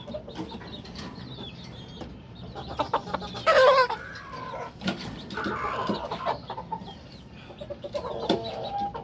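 Three-month-old white pit gamefowl cockerels cluck and call in a pen, with scattered near bursts of clucking and a louder squawk partway through over a busy background.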